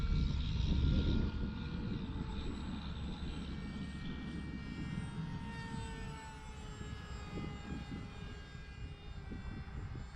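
A HobbyZone AeroScout RC airplane flies overhead, its small motor giving a steady buzzing drone that rises and falls in pitch as it banks around, heard alone at moderate distance.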